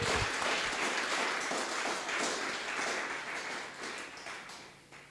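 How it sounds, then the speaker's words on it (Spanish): A church congregation claps together in a steady, dense burst of applause, moderately loud and fading slightly over about five seconds. "Dale un aplauso al Señor,"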